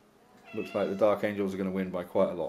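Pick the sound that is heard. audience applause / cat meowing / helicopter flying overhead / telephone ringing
cat meowing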